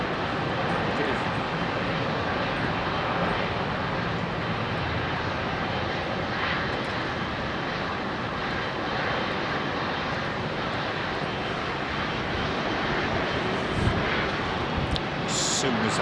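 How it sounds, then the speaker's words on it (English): A KLM Embraer 195 E2 jet airliner touches down at London Heathrow, heard as a steady, broad engine and airflow roar that holds evenly throughout with no clear rise or fade. "KLM 195 E2 jump, touching down."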